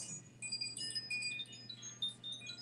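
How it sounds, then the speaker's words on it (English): A meditation chime rings softly, its bright, sustained metallic tones shimmering and slowly fading over a quiet, hushed background with no talking. "Let the soothing sounds of the chime wash over you."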